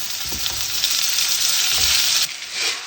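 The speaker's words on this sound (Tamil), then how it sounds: "இஞ்சி பூண்டு விழுது நல்லா வதங்கினதுக்கப்புறம் தக்காளி சேர்க்குறேன்." Ginger-garlic paste and tomato sautéing for a ridge gourd (peerkangai) masala curry give a steady, loud sizzle with bursts of stirring throughout, then a short dip near the end.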